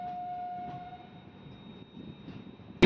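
Machilipatnam-Bidar Super Fast Express train rolling away from Pedana, a steady low rumble with faint tonal squeals, heard from inside, with a sharp loud burst at the very end.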